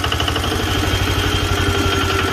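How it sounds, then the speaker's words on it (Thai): An old Japanese Yanmar 16 hp single-cylinder diesel farm engine, used for water pumping, runs steadily nearby with a loud, even, rapid chugging thump and mechanical clatter, no voices over it. "เครื่องยนต์การเกษตร ใช้สูบน้ำปั๊ม น้ำอะไรพวกนี้ครับ ใช้งานได้ดี"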